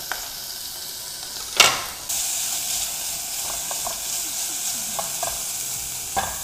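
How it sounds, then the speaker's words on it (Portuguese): Bacon frying in a pan with extra fat and butter gives a steady close sizzle and hiss throughout, with a louder crackling burst near the middle and a few small pops. "Eu gosto de ampliar o sabor do bacon quando ele está fritando com um pouco mais de gordura e um pouco de manteiga."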